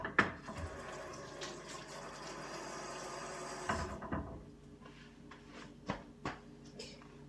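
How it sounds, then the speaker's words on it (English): Tap water runs in a kitchen sink while hands are washed, a steady close splashing stream for about four seconds that then stops, leaving a few faint knocks and clatters. "Wash your hands"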